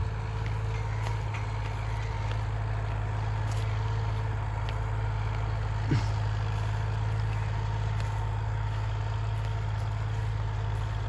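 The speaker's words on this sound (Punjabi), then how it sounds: "5105 40 ਐਚ ਪੀ ਟਰੈਕਟਰ 4x4 24 ਤਵੀਆਂ" A John Deere 5105 40 HP 4x4 tractor works with a 24-disc harrow, giving a continuous low diesel hum that stays even and steady from a moderate distance.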